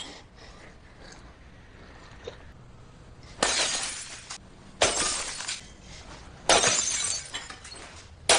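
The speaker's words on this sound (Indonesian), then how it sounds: "dia memukulkan botol minuman ke kepalanya tanpa bisa berbuat apa-apa" Glass drink bottles smashing, several loud shattering crashes with tinkling debris, spaced a second or so apart after a quieter stretch.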